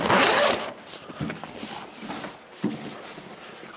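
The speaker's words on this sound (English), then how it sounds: "A big heavy duty zip." A big heavy-duty plastic zip on a British Army DPM jacket rasps in one loud, quick pull, followed by softer scraping tugs and fabric handling close by.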